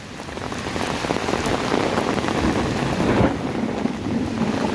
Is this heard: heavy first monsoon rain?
yes